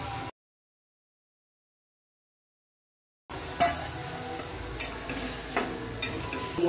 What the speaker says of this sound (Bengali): ভাজা হয়ে যাবে তেলের সঙ্গে।